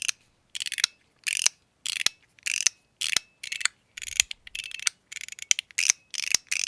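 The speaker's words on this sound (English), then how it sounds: "You can hear that. It's got a crispness to it that I am struggling to get back on my MOT Groove." Crisp ratcheting mechanism of an MOT Groove: rapid bursts of sharp mechanical clicks, about a dozen short spins separated by brief pauses, close and clear with no talk.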